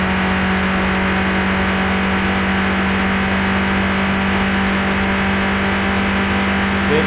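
A Ford Escort's engine holds a loud, steady high-rev drone at speed, continuous and unbroken with a strong tonal hum, no talking over it.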